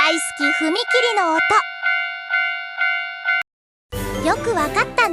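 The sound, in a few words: railroad crossing bell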